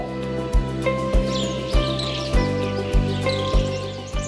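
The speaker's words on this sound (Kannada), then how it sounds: "ಹಕ್ಕಿಗಳ ಚಿಲಿಪಿಲಿಯ ರಾಗ ಕೇಳಲು" Faint, scattered bird chirps twitter high above a steady, rhythmic music track with regular low beats, in the countryside at Mahadevapura, Srirangapatna, Mandya district, Karnataka.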